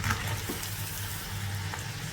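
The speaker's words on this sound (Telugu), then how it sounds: "కంటిన్యూగా ఇలా కలుపుకుంటూనే ఫ్రై చేసేసుకోవాలి" Thick ground lentil paste fries in a pan over medium flame while being stirred continuously, producing a steady hiss with soft scraping strokes underneath.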